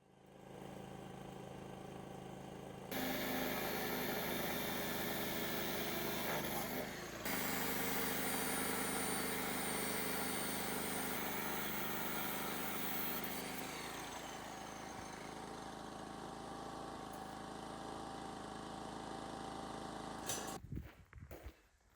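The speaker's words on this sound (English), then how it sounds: "First, cutting some additional rebar pieces." Steel rebar pieces are cut on a building site, a loud, steady cutting whine that runs for most of the stretch, with brief shifts in pitch and a quiet lead-in and tail.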